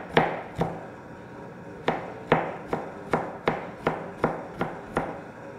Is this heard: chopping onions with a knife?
yes